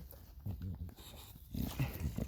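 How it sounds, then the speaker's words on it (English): A dog on or near a boat makes short harmonic whines and panting sounds at close range, coming in two bursts with brief pauses, with a little outdoor background underneath. "Look at this stupid dog."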